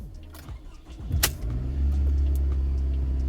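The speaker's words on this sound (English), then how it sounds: "it turns over your engine and you're able to start your car that way" A Toyota Camry engine starts when cranked, with a brief starter whine followed by the engine catching into a steady, close low idle rumble, and no talking.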